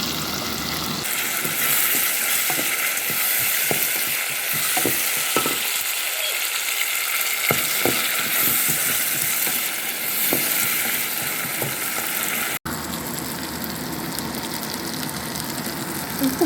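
Curry leaves sauté in a hot pan while cooking a Sri Lankan dry fish curry, giving a constant hiss of sizzling oil with soft crackles and stirring scrapes, close and fairly loud, with no talking over it.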